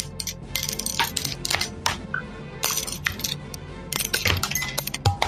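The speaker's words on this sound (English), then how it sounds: "It was specifically 8 die being dropped on a spoon." Eight dice dropped onto a spoon give a run of sharp metallic clinks and rattling clatters in irregular bursts, close and fairly loud, with no talking.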